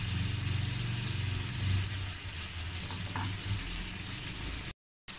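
Fish-shaped puffs with a cooked fish masala filling fry in hot oil, crackling in a steady, close sizzle with a low hum underneath, then a brief dropout just before the end.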